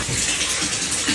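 Water pours into a fish tank in a steady, close gushing rush that holds at an even level throughout, with no talking.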